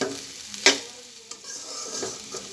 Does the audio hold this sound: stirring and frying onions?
yes